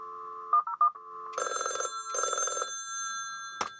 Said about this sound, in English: Now what I can do is I can dial this phone with ATDT101, which is the extension.